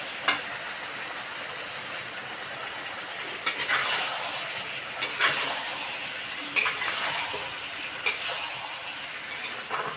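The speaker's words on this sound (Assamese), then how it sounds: "এতিয়া ভালদৰে ভাজোঁ" Duck meat and pumpkin fry in a pan with a constant sizzle, while a utensil stirs and scrapes, giving several sharp clinks against the pot.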